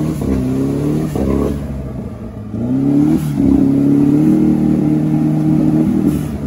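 An off-road vehicle's engine roars loud and close at full throttle in an off-road event, revving steadily, dipping briefly, then surging back to a sustained high drone.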